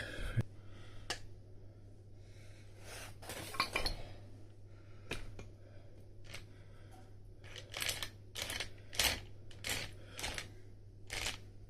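Metal parts click and clank irregularly as the gears of a 1998-2001 KTM 60 SX motorbike gearbox are turned by hand, sounding rough, close up over a steady low electrical hum.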